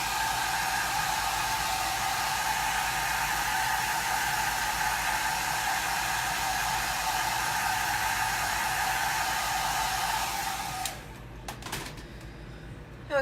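A hair dryer runs with a steady, loud whirring blow for about eleven seconds, then cuts off, leaving a few faint clicks and handling sounds.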